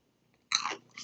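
Crunchy nacho-flavored Goldfish crackers are bitten and chewed close to the mic, a brief near silence then a sharp burst of crunching and a second smaller crunch.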